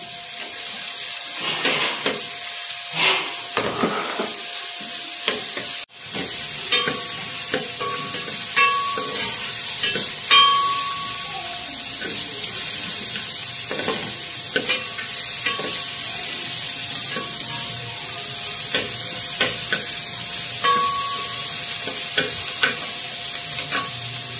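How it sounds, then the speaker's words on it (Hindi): Capsicum frying in a pan with crushed garlic while being stirred, a steady sizzle running throughout with repeated scraping and clinks of a utensil against the pan, close and fairly loud. "इसके अंदर हम डालेंगे अपना शिमला मिर्च, डालेंगे फ्राई करने के लिए।"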